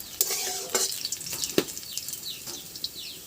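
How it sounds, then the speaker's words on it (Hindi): Onions sizzle in a pan in a home kitchen as a spoon stirs them, with irregular scraping clicks over a soft frying hiss. "देखिए प्याज रेड होने तक भूजेंगे।"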